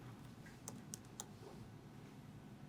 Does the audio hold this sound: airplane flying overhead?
no